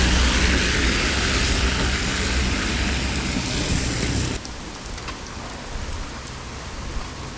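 Steady rain hisses loudly through a bike ride on a mountain trail loop, a dense broadband wash that drops to a softer, patchier patter partway through.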